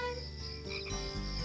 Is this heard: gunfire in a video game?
no